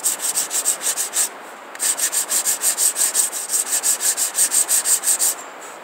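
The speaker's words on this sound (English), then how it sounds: "If you get a bad blue job when you're sanding this, it'll pull up." Sandpaper rubbing back and forth along the edges of a rawhide-backed wooden bow, a steady run of rhythmic close strokes with a brief pause partway through.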